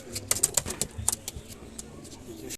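Pakistani-blood pigeons flutter and coo close by, a cluster of sharp bursts and soft calls, then quieter murmuring toward the end.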